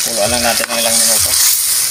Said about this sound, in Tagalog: Pakuluan lang natin ng ilang minuto.